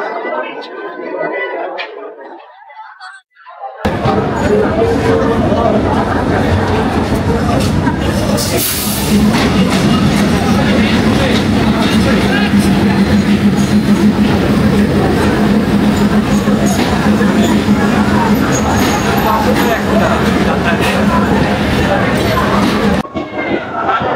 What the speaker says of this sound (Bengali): প্ল্যাটফর্মে চলে আসছে মংলা কমিউটার ট্রেন, খুলনা থেকে ছেড়ে